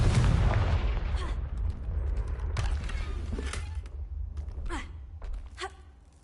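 A Confringo fire spell blast from the Hogwarts Legacy video game: a heavy, booming burst followed by a rumbling low tail, with a few sharp cracks and thuds as it fades.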